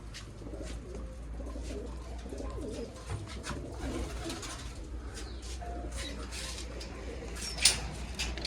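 Domestic pigeons coo softly and repeatedly close by at a loft, with soft rustling around them and a faint voice in the background.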